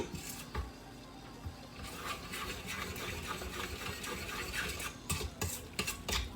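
Bran muffin batter made of cereal, milk, egg and oil is stirred in a bowl, a faint continuous scraping and rubbing with a few soft knocks near the end, close and quiet.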